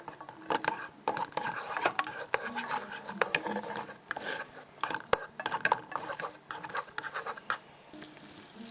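Butter being stirred in a pan for gambas al Jerez, a utensil scraping and clinking against the metal in a steady, busy rhythm of close scratches and taps, with a voice talking now and then underneath.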